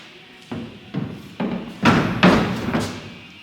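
A door panel is fitted onto a right-hand-drive BMW hatchback race car, producing a series of about six dull thumps and knocks at irregular intervals, growing louder toward the middle, close by with no talk.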